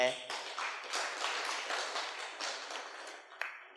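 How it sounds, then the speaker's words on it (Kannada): Audience at a Kannada spiritual talk breaking into sustained clapping, a dense wash of many hands at moderate distance with a few sharper individual claps standing out near the end. "ಹೊಡೀರಿ ಜೋರಾಗಿ ಚಪ್ಪಾಳೆ"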